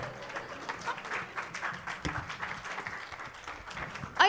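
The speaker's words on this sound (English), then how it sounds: "Standing ovation, please." An audience at a student literature festival gives a standing ovation, continuous clapping from a seated crowd with a few louder individual claps, ending as a voice cuts in.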